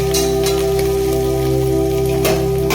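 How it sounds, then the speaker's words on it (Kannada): Onions frying in a pan for a village-style chicken sambar, a steady dense sizzle with crackling bursts throughout, close and fairly loud with no talk over it. "ಆನಿಯನ್ ಹಾಕಿ ಸ್ವಲ್ಪ ಈ ಥರ ಅಂದರೆ ಈರುಳ್ಳಿ ಇರ್ತಕ್ಕಂಥದ್ದು ಸ್ವಲ್ಪ ಕೆಂಪು ಸ್ವಲ್ಪ ಬೇಯಿಸ್ಬೇಕು ನಾವೇ"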